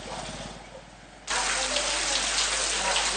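Rain falls continuously in Trincomalee, first a softer patter with some low background sound, then abruptly louder and fuller as a dense, steady wash of water that continues to the end.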